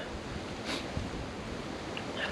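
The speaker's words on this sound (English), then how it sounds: "you might be able to hear the wind over the sound of this video now" Strong, gusty wind at a camp in an old castle, roaring as dense, unbroken rushing noise and buffeting the microphone, with brief louder gusts and no voices.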